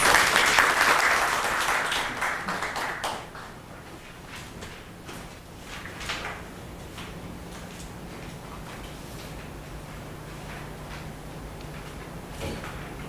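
Seminar audience at an open data forum applauds a speaker at close range, dense clapping loudest in the first three seconds and then thinning to scattered claps and room noise.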